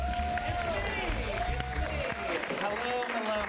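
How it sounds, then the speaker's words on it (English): A comedy theater audience applauding and cheering for the improv show's host, a steady wash of clapping and crowd noise with voices mixed in throughout. "make some noise for your host tonight"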